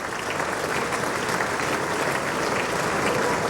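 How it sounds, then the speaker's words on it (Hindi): Thunderous applause in the US Congress during an address by India's Prime Minister Narendra Modi, a sustained, dense roar of many hands clapping at a steady loud level throughout. "उसमें तालियों की गड़गड़ाहट कभी रुकी नहीं।"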